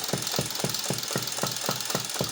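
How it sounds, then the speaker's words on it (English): Dart Zone motorized foam dart minigun revving up, a loud steady mechanical whir pulsing with a regular rapid beat, close and alone with no talk. "So to rev up is, you will rev up like this using the rev up button."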